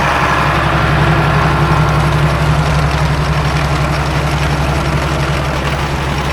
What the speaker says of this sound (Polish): Ciągnik sobie jedzie sam.